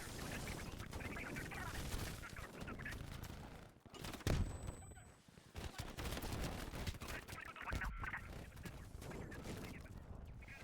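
Gunfire rattles almost nonstop in a Call of Duty Cold War mission as bursts and single shots pile into a dense, distant-sounding barrage, with a brief lull partway through.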